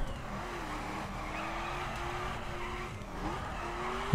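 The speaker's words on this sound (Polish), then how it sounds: "Bardziej lubi takie power slidy i po prostu boksuje kołami." A car in The Crew spins its wheels in a power slide, with a wavering, squealing tire note over a steady engine roar, continuous and fairly loud, no voices.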